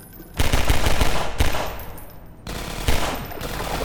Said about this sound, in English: Alright, I'll shoot that one.